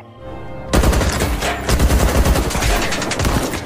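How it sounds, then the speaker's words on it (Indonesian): A rapid burst of loud AK-47 gunfire behind a factory, sustained automatic shots cracking close by after a brief quiet lead-in, with a short pause near the end. "Karena suara tembakan itu"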